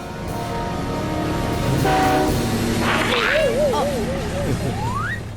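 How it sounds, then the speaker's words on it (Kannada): Cartoon train pulling into a station platform, a loud sustained rumble of rolling carriages with a blaring horn and warbling whistle tones rising over it; a voice is heard beneath. "ಪುರ್ಪುರಿ ನಗರದಿಂದ ಮಾಡರ್ನ್ ಸಿಟಿಗೆ ಬರುತ್ತಿರುವ ಟ್ರೈನ್ ಗಾಡಿಯು ಕೇವಲ ಕೆಲವು ನಿಮಿಷಗಳಲ್ಲಿ ಪ್ಲಾಟ್ಫಾರ್ಮ್ 1ಕ್ಕೆ ಬರಲಿದೆ."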